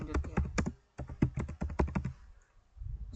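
Rapid clicking keystrokes on a computer keyboard come in two quick bursts separated by a short gap, close and clear, followed by a low quiet rumble.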